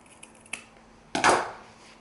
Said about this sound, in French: On coupe à 1 cm du trait.